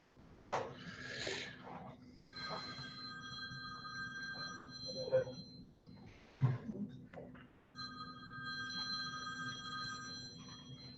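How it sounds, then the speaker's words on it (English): An old-fashioned telephone bell rings in repeated bursts in a quiet room, with brief pauses between rings and a few faint voices around it. "Who's got the old school phone?"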